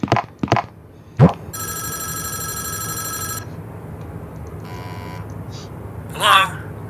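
A telephone rings in the horror video game Five Nights at Wario's, a steady electronic bell lasting about two seconds, then a fainter second ring, with short clicks and thumps around it and no talk.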